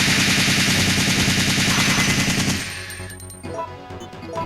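Loud, dense automatic gunfire in Resident Evil 3, a rapid rattling burst that runs for about two and a half seconds and then cuts off, leaving fainter game sounds behind.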